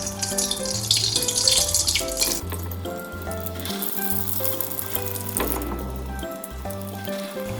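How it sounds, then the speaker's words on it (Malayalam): Egg-coated bread rolls frying in hot oil, a steady close sizzle and crackle running throughout with background music playing alongside. "എന്നിട്ട് ചൂടായ ഓയിലിലേക്ക് ഇട്ടിട്ട് ഫ്രൈ ചെയ്തെടുക്കാം."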